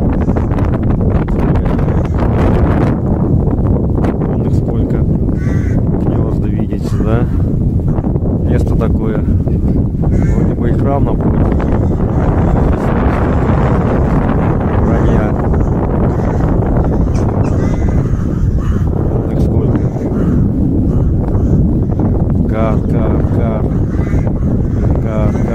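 Strong wind buffets the microphone throughout with a constant loud roar, while a person talks over it.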